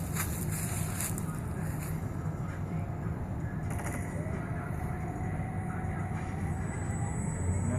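A Goblin 700 radio-controlled helicopter flies low outdoors, its rotor downwash blowing leaves, producing a loud, continuous broadband roar with a faint whine rising in pitch.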